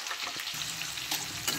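Chopped onions fry in a hot pan for a chilli chicken dish, a dense continuous sizzle with faint stirring scrapes, close and fairly quiet, with no voices.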